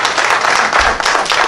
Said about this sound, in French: je vais demander pour applaudir. Encore une fois, Maurice Fayence.